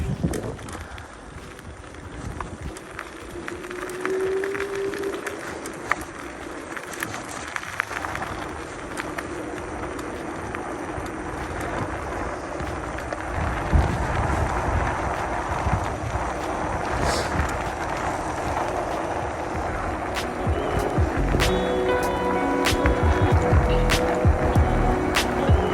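A DYU D3F 14-inch folding electric bike runs on throttle alone with no pedalling, its faint motor whine under a steady rush of road and wind noise that builds slowly as speed rises.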